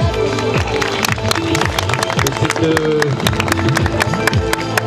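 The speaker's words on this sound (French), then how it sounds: "Vous pouvez l'applaudir" Audience applause for a horse performing a piaffe at an equestrian display, a steady crowd of clapping hands with scattered sharp claps above a busy low background of voices and movement, lasting throughout.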